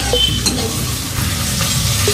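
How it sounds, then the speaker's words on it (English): Sticky okra (lady finger) frying in a pan in Jodhpur, India, giving a loud, dense, continuous sizzle with a few faint clinks from the utensil. No one speaks. "We'll be adding this lady finger here. Add it. The sticky one."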